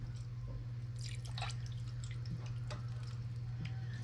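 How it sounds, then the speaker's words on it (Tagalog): Water poured into a cooking pot with tomatoes for a tilapia soup, heard as irregular splashing and dripping at close range over a steady low hum. "Lagyan na natin mga paps ng tubig para pag kumulo lalambot na yung kamatis"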